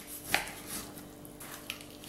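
A knife cutting beef into large pieces across the grain, quiet and close, with one sharp tap of blade on board early on, a second fainter tap later, and soft slicing between them.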